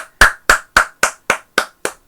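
Hands clapping close to a Gator microphone attached to a Micro:bit board, eight sharp, evenly spaced claps at a steady rhythm, loud and close with no talking.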